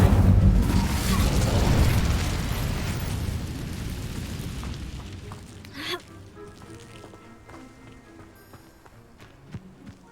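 A heavy fiery burst from the Incendio spell in Hogwarts Legacy roars loudly at first, then fades into a long crackling tail, with a few faint clicks and footsteps after it.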